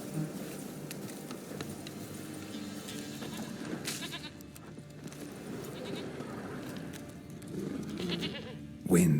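Goat bleats from The Witcher 3 on a farm-like setting, several nasal calls spread across the clip over a steady outdoor ambience, with a louder burst near the end.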